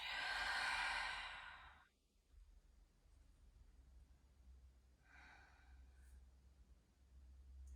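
A yoga practitioner releasing one final deep breath after an inhale during an energy flow session, a soft breathy sigh at the start followed by quiet room tone and a fainter second breath.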